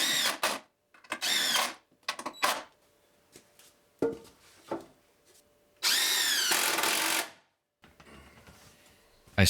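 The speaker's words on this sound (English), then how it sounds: "I screwed the shelf box to the vertical supports and then added a sheet of plywood on top, screwing it down." Power drill driving screws to fix a storage shelf box to vertical supports, several short loud whirring bursts with revving pitch, separated by quiet pauses and small handling knocks.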